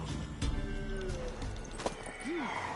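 A mare's hooves clip-clopping at speed in the video game The Witcher: Wild Hunt, with a short whinny near the end over a busy game background.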